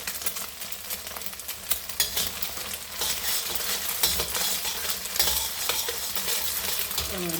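Fried rice browning and being stirred in a frying pan, with steady sizzling and frying plus repeated scraping and clinks of a utensil against the pan, close up and with no talking.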